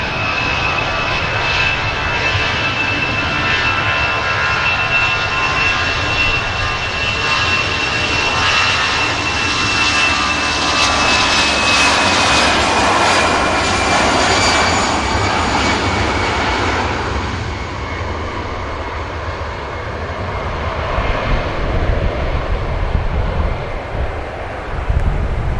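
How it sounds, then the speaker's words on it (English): A 30-year-old jet airliner takes off at Manchester Airport, its engines roaring loud and sustained with a high whine, the sound swelling then easing as it climbs away, wind buffeting the microphone. "Positive rate of climb and the gear goes up."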